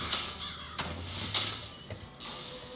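Crows cawing in the video game BioShock Infinite, several harsh caws in quick succession at moderate loudness, with faint mechanical game sounds underneath.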